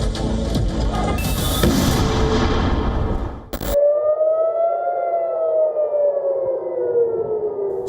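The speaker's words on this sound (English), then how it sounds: "Sirens screamed, bombs thundered." Air raid sirens during the Israel-Iran war wail loudly, first amid a dense, noisy burst of sound, then as a long rising and falling civil defense siren tone heard alone.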